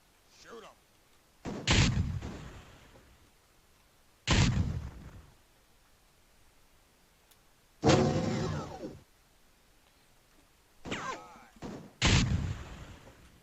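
Gunfire from Wolf3D running inside Rise of the Triad: a handful of separate loud shots and short bursts at irregular intervals, with quiet gaps between them and no talk.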